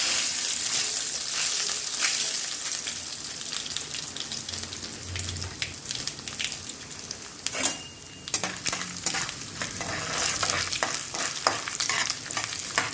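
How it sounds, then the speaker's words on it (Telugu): Tempering spices for a Telugu curry sizzle and crackle steadily in hot oil in a pan, a close, continuous frying hiss with scattered pops and stirring scrapes throughout. "ఇప్పుడు తిరగమాత వేడి వేస్తున్నామండి"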